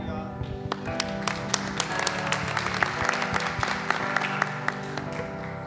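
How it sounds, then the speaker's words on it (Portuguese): Audience applause fills a church during a family worship service, a steady wash of many hands clapping under a sustained musical backdrop, with sharper individual claps standing out throughout. "Pode aplaudir, Eduardo."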